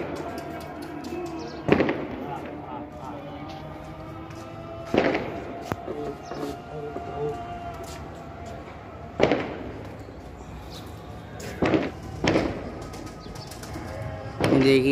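Pigeons released from a rooftop loft burst into flight, with several separate loud flurries of flapping wings spaced a few seconds apart over a steady background murmur.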